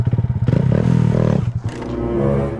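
A dirt bike ridden by someone learning wheelies lurches and bogs, with a choppy pulsing engine note that chokes off abruptly, then a brief rev picks back up, loud and close.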